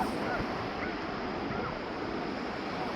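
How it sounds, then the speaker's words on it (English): Wind gusts across the coast near Tunnel Beach, a steady broadband roar buffeting the microphone with faint surf-like rushing beneath. "it's windy"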